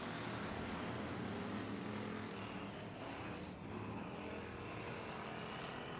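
Hobby stock race cars on an off-road speedway dirt track roaring as they accelerate at a race start, a dense continuous engine drone heard from a distance.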